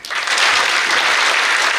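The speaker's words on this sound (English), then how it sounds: "Please, another round of applause for the Governor of the Central Bank of Nigeria" A large audience at the 7th Africa Emerging Markets forum applauds after a speech. The clapping is loud, dense and steady for its full short length.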